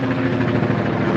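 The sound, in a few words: helicopter flying overhead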